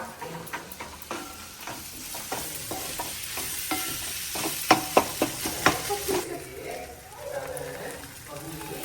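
Potato palya stir-fried in a pan gives a soft continuous sizzle with repeated scraping and stirring clacks of a spatula, a cluster of sharper knocks midway, close by and fairly quiet.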